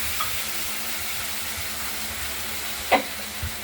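Steady sizzling of potatoes frying with spices in a pan, with a brief scrape of stirring near the end.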